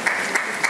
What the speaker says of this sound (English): yes, some kind of round of applause.